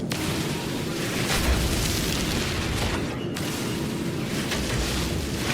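A loud, sustained explosion rumbles on in a video game, thick roaring noise filling the whole stretch with a brief sharp break near the middle.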